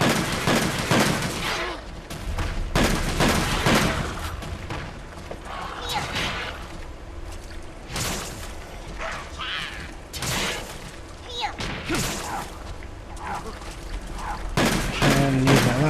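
Pellet shots fired in the video game MHTU (Monster Hunter), a rapid series of loud blasts and thuds repeating every second or two, close and punchy, over game background noise.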